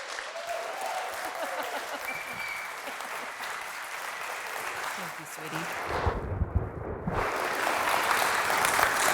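Steady crowd applause fills a Calgary auditorium as a guest speaker is welcomed at a talk on hope, change and uncertainty, holding at an even level throughout and swelling a little near the end.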